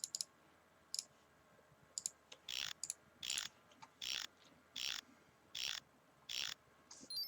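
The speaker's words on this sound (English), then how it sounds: "we need to retighten the bolts as well with the wrench" A wrench cranks bolts tight in Leisure Suit Larry 6, giving sharp ratcheting clicks in quick bursts and then a run of evenly spaced, heavier tightening pulses, close and clear over a quiet background.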